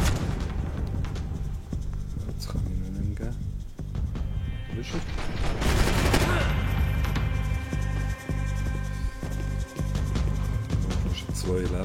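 Video game gunfire with booming, crashing impacts over busy music and effects, loud and continuous throughout.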